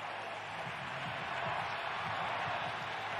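Stadium crowd at a 49ers vs Buccaneers football game, a steady, dense roar of many voices, far and continuous, with a voice talking underneath.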